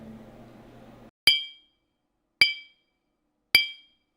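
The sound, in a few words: empty drinking glass struck with a spoon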